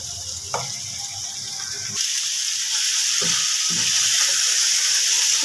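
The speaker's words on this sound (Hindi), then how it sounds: "गोश्त को हमने भून लिया है" Goat mutton chop meat fries in a pan with a steady, bright hiss that grows louder and fuller partway through, with a few soft clinks and stirs close by.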